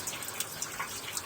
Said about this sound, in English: we've got nice, cold, clear water coming out